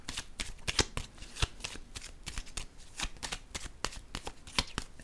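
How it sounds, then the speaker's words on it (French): Playing cards being handled and laid down on a table: a steady run of close, crisp card snaps and slaps repeated throughout, with no talking. "Allons-y, je vais déposer une carte ici."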